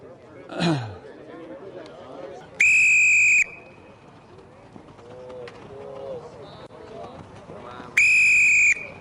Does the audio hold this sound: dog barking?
no